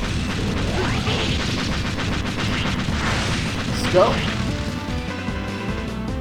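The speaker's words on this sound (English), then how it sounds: "This truck has already begun to explode." Explosions rumble from a truck blowing up in the video game Megaman X5, heavy booms and crashes layered over busy game sounds, with one sharper burst partway through and a player speaking briefly.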